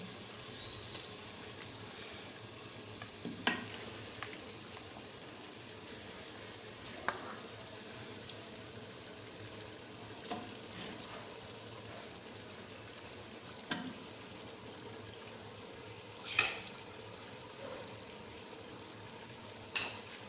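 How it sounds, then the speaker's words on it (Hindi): Veal pieces frying with tomatoes in a pan give a faint, steady sizzle, broken by occasional soft clicks and stirring knocks, with no talking. "ये गोश्त जो हमने बछड़े का लिया था, ये अभी डालेंगे इसके अंदर गोश्त"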